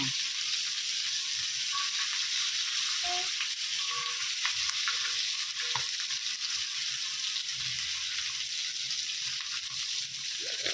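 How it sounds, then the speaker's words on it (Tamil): Sardines frying in hot oil give off a steady, close sizzle with scattered pops and splatters running throughout, no voices over it. "எண்ணெய் பொட்டு தெரிக்கும்"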